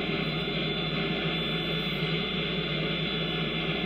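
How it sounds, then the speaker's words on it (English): A Real Sound Jet Turbine effects box plays a continuous afterburner jet engine roar, a steady broadband rush with a constant hum underneath, holding at an even level throughout without spooling up or down. "how to operate the Real Sound Jet Turbine sound module"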